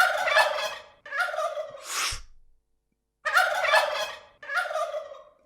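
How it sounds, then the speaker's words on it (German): A turkey gobbles loudly and close, four rapid warbling bursts with a short gap in the middle and a brief breathy hiss after the second call. "Das ist irgendein Bird. Ein Truthahn."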